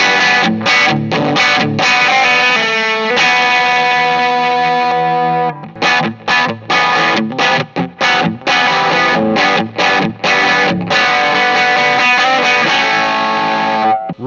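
A guitar runs through an effects pedal with its edge switch on, giving loud, heavily distorted chugging chords and sustained ringing notes in choppy rhythmic bursts with short gaps between them, and no voices.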